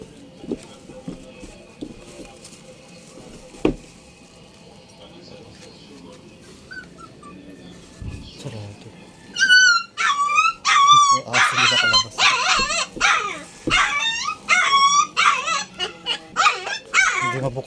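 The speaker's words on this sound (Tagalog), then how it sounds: "Kanina pa nakakulong yung aso niya. Tuta. Hindi makalabas." Several puppies shut inside a closed room whimper, yip and bark, starting faintly and then breaking into a loud, dense run of high-pitched cries in the second half.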